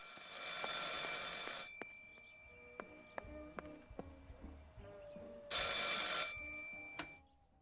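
In the video game Martha is Dead, an old telephone bell rings in two loud, bright bursts separated by several seconds of quiet ticking and small clicks, with no voices.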